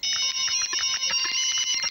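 Several mobile phones ringing at once in a busy overlapping chorus of electronic ringtones, steady and fairly loud throughout with no voices.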